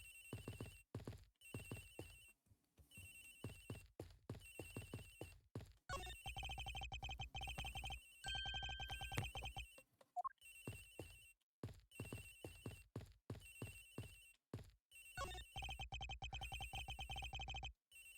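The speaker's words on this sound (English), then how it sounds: "Agent Hicks' phone. It's ringing from somewhere, sir." In the Ace Attorney Investigations video game, a phone rings aboard a plane in a steady, repeating pattern of electronic bursts over continuous game music and sound effects.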